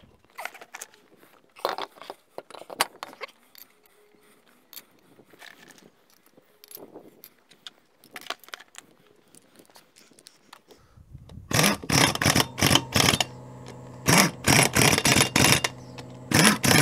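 A car wheel is fitted back onto the hub in a garage, with quiet clicks and knocks of handling at first, then a run of loud rapid metallic rattles and ratcheting as the wheel nuts go on.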